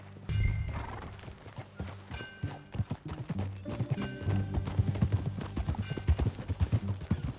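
Horse hooves clip-clop in a steady rhythm as a rider gallops through Red Dead Redemption 2, with a whinny early on and musical tones running underneath throughout.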